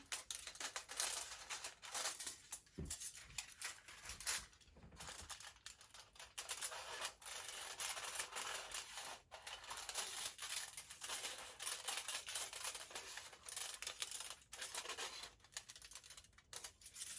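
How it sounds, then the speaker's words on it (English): Quiet, close snipping of scissors cutting paper and rustling, with repeated small cuts and crinkles continuing steadily and no talking. "grab your scissors again, and you're just gonna cut very carefully"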